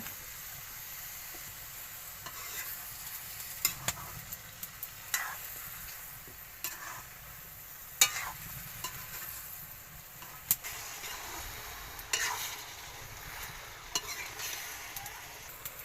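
Potatoes fry in a pan for a cabbage dish with prawns and peas, giving a low steady sizzle broken by repeated scraping and clattering stirs at irregular intervals, close by and with no voices.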